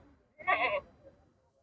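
A single goat bleats nearby at a goat market in Lehra Bega, one short nasal cry over a low background murmur.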